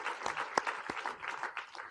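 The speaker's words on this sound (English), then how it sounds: "Give her a round of applause." An audience applauds a scientist's wife of 52 years at an academic talk, a steady patter of clapping from a seated crowd with a few sharper claps standing out.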